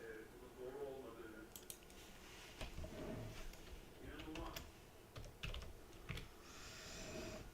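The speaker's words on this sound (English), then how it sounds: "What if I type in" Quick bursts of clicking keystrokes on a computer keyboard, close and fairly quiet, with a person talking softly alongside.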